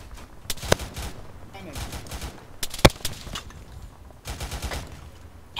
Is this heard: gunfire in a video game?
yes